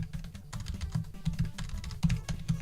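Rapid, steady clatter of keys on a computer keyboard, close and continuous with irregular bursts, no voices over it.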